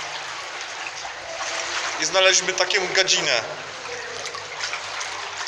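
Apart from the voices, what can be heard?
water flowing in a power plant's cooling-water discharge canal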